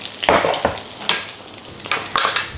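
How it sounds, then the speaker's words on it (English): Roasting vegetables stirred in an oven tray, several scraping and clattering strokes of a utensil against the pan over a faint sizzle, close and irregular, no talking. "Now the vegetables have been in the oven for about 15 minutes and they're starting to roast lovely. I'll just give them a little stir"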